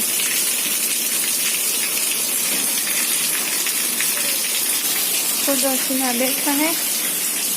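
Steady broadband hiss of rain falling, constant throughout, with a brief voice or call rising near the end.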